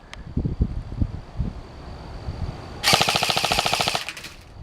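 BB guns fire in a quick burst of rapid, snappy shots outdoors after a few short voices and some wind rustle.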